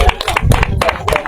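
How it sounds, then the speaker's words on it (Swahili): Brief bursts of rhythmic clapping from an audience at a church graduation ceremony for Sarah Chebet, close and loud, with some voices mixed in. "Makofi kwa yeye."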